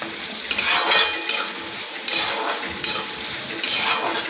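Garlic frying in a pan is stirred with a utensil, giving a steady sizzle broken by about half a dozen scraping, clinking strokes against the metal.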